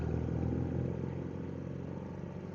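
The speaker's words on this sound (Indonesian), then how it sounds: "mohon maaf agak berisik, kalau agak berisik ya karena itu tadi ada knalpot brong" Loud aftermarket knalpot brong exhaust on a motorcycle ridden along a rough stretch of Java's southern route during the 2024 Lebaran homecoming traffic, giving a steady, heavy low engine drone that fills the whole clip without letup.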